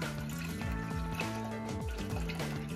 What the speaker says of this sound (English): We got 1 quart of milk and I'm going to put it into my saucepan.